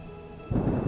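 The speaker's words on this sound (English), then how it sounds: "Thunder rumbled." Low thunder rumble in the game Troubled, swelling suddenly halfway through into a loud, broad roll after a quieter stretch of ambient hum.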